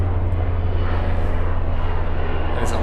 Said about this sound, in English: That is a loud helicopter.